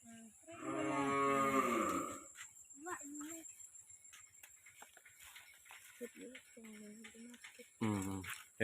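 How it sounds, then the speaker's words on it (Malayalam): A long, drawn-out cow moo rises near the start at an Ayurvedic resort, followed by quieter lowing and scattered talk, with another short moo near the end. "ഒരുപാട് പശുക്കളുണ്ട് പശു പശു"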